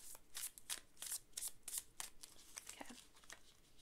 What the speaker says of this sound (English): Let me pull some Pokemon cards for you again.